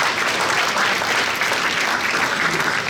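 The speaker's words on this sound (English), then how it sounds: "So, round of applause to Salman for setting up such an amazing event." An audience at a real estate awards event gives a dense, continuous round of applause, loud and even from start to finish, with no speech over it.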